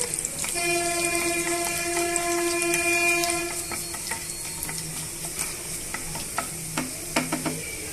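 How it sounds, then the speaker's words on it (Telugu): Cashews and other ingredients fry in hot oil in a pan while making cashew semiya upma, giving a steady close sizzle. Sharp clinks of a utensil against the pan come and go, with a faint sustained tonal hum early on. "ఆయిల్లో వేసుకొని వేయించేసుకోవాలండి"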